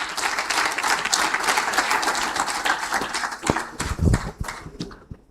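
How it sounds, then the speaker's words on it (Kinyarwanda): Audience at a tech event in Rwanda clapping to welcome a speaker, a dense, lively burst of applause that gradually thins into scattered claps with a few thuds and fades out. "Munyemerere mu ntiza amashyi tumwakire"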